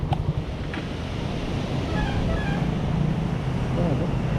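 Ocean waves wash steadily along the shore at Barangay La Paz, Zamboanga City, a continuous broadband rush mixed with wind buffeting the microphone, while a faint voice sits low beneath the surf.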